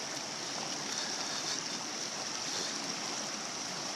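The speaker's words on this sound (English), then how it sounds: "I'm gonna go here into this creek, and I'm gonna see how fast that current is." Steady, loud rush of creek water flowing in a continuous broadband wash, close to the microphone, with no voices over it.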